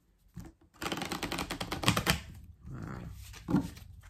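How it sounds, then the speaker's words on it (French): A deck of cards is shuffled in one dense burst of rapid, crisp riffling clicks, followed by softer handling noises and a short tap near the end, heard close up with no talking. "Je vais rebattre un peu les cartes."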